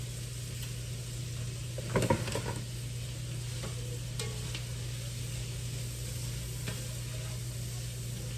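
Garden vegetables seasoned with red pepper flakes and seasoning salt sizzle steadily in a pan, with a few close scraping stirs and light utensil clatters over a faint hum.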